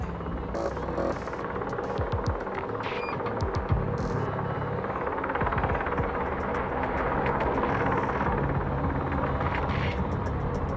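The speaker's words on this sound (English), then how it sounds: "What's their chopper waiting for?" Helicopter hovering in the video game Quantum Break, a steady throbbing rotor hum running continuously under layered game ambience, with no voices.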